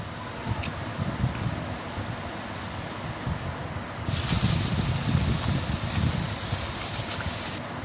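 Fish frying lightly in oil in a pan while being stirred, a steady hiss that jumps into a louder, brighter sizzle partway through and keeps going without a break.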